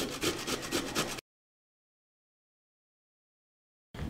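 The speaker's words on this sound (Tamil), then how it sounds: "பாருங்கள், காலிஃப்ளவர் நல்லா திருவி எடுத்துக்கலாம்." Cauliflower grated by hand on a metal grater for rotti dough, a close rhythmic scraping of repeated strokes that stops abruptly, then resumes briefly at the very end.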